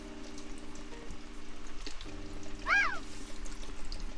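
Beef broth pours into a pot for beef bourguignon, a soft liquid splash and trickle over steady kitchen hum, with a brief higher chirp partway through.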